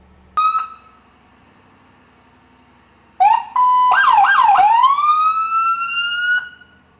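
A police car siren, run code 3 with lights and sirens, gives a brief opening yelp, then loud, close rising and falling wails that sweep steadily before cutting off.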